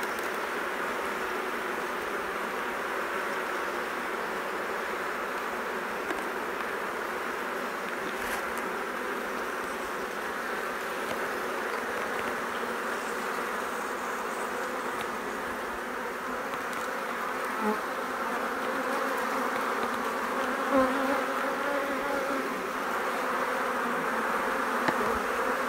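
A steady, close bee buzz drones on without pause, a continuous hum with a few brief louder flickers near the end.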